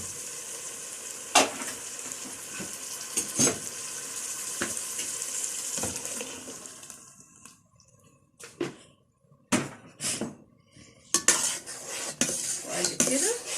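A spoon stirs crushed tomato sauce with spices in a metal pot, scraping and clinking against the sides in repeated strokes over a steady sizzle, with quieter pauses between bursts of stirring.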